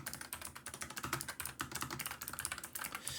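Computer keyboard clicking as code for an Excel macro is typed, a quick irregular patter of close, faint key presses with no voices.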